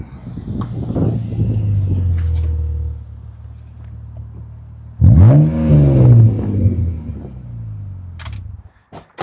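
A BMW roadster fitted with a new aftermarket exhaust revs loudly nearby, two strong surges of engine roar rising and falling, separated by a quieter idle, with sharp clicks near the end.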